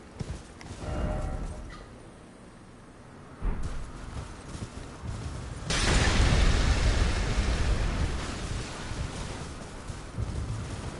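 In Elden Ring Shadow of the Erdtree on PS5, a giant rumbles and hurls pots, heard as heavy booms and a long loud crashing rumble with thudding impacts.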